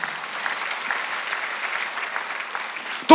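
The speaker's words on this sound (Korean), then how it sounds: "박수하세요." Congregation applauding during a Sunday church worship service, a steady moderate wash of many hands clapping that cuts off abruptly into a loud burst at the end.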